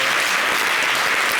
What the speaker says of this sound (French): Je veux des acclamations.